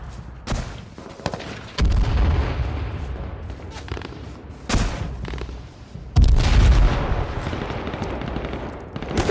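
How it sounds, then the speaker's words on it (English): Gunfire in the video game H1Z1, heard as dense bursts of automatic fire and heavy booming shots. The bursts are close and loud and come in waves through the whole stretch. "Why the hell are they shooting at me?"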